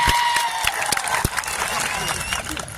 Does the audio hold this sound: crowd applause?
yes